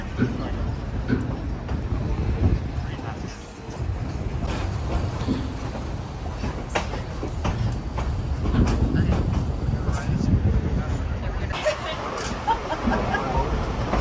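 A scenic canyon train in Durango rumbles steadily with a constant low roar and faint rattling, while people talk indistinctly over the noise throughout.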